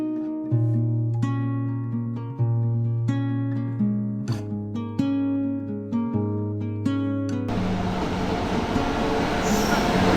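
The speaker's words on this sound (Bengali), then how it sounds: "দশ ঘন্টা লেটের পর ফাইনালি ট্রেন আসলো।" A train pulls into platform 3 at New Cooch Behar station, where a loud sequence of sustained tonal blasts gives way to a rushing, broadband rumble in the final seconds.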